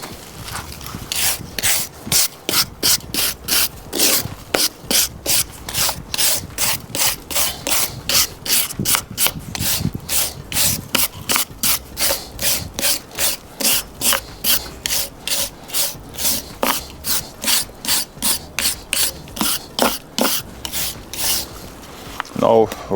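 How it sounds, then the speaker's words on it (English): A brush scrapes mortar joints on veneer stone in quick, regular strokes, a crisp rasping rhythm repeating steadily and close up throughout. "So you want to brush it, just brush it according to the shape of your joint"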